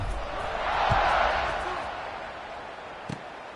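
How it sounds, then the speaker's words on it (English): Stadium crowd at a college football game in College Football 26 buzzing as a steady, swelling roar, with a couple of brief thumps standing out. "this crowd is buzzing after that last score"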